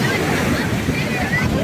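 Ocean waves at high tide on a beach in Egypt, a steady broadband wash of surf rolling continuously and fairly loud throughout, with no clear break between breakers.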